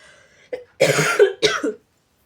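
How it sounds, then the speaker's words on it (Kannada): A person coughs in short harsh bursts: one brief cough, then a longer rough fit and a final burst, close and fairly loud with no talk, while the person is unwell with fever. "ನಂದು ಅರ್ಧ ಬರೀ ಕೆಮ್ಮು ಇದರಲ್ಲೇ ಹೋಗ್ಬಿಟ್ಟೈತೆ ಅರ್ಧ ವ್ಲಾಗು"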